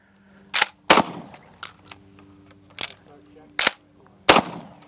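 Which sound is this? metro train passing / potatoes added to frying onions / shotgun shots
shotgun shots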